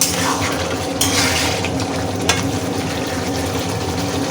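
Spice paste for a baim fish curry being fried and stirred in a pan, giving a continuous close sizzle with scraping stir strokes and a couple of sharper clinks of the spoon against metal.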